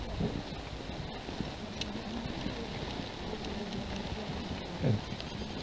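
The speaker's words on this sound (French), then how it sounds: "La pluie en continu." Steady, continuous rain with a dense hiss and occasional gusts of wind, constant throughout with no voices.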